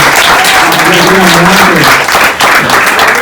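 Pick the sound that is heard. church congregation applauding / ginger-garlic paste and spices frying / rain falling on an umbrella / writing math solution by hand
church congregation applauding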